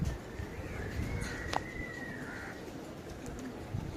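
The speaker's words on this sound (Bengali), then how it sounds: "এত কবুতর আছে এখানে এই যে কিছু কবুতর নেমে গেছে" Low cooing and fluttering of a flock of about 700 pigeons under a cloudy sky in a soft outdoor wash, with a faint thin whistle drifting past; no one speaks.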